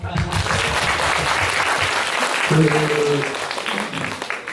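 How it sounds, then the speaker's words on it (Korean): An audience applauds after a group reading of a poem at a poetry talk, with a continuous burst of clapping under voices and a brief murmur of speech partway through. "박수."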